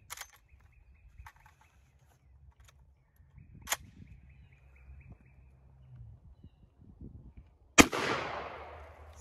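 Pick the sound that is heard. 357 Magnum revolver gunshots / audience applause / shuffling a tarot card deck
357 Magnum revolver gunshots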